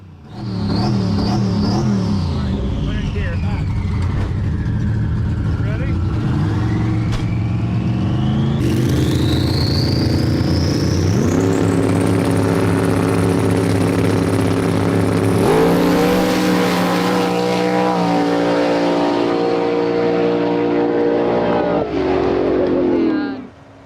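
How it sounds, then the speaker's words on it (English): A Ford Falcon drag car held at high revs on the starting line, its engine roaring loud and close for the whole stretch, pitch climbing and falling as the throttle is worked, then cutting off at the end. "told him to keep the car revved up to keep the fuel pressure up"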